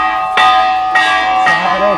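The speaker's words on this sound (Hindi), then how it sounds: "चारों तरफ घंटियाँ ही घंटियाँ, घंटियाँ ही घंटियाँ बंधी हुई हैं" Three metal temple bells at Jageshwar Dham ring out loud and close, one struck roughly every half second, each with a sharp clang and a long shimmering ring.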